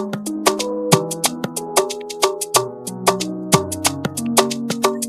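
Percussion loop from an FL Studio beat: crisp, rapid hits with short pitched tones, evenly rhythmic and up front, with no voices.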